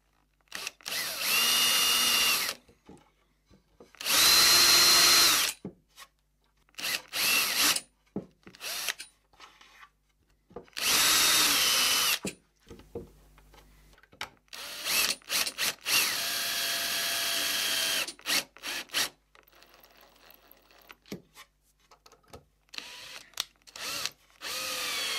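A power sander working a wooden key-board and pinboard panel in loud whirring runs of several seconds each, separated by pauses and quieter handling and rubbing sounds.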